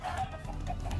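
Chickens cluck nearby in a short, soft burst of quick, rhythmic clucks over a low background hum.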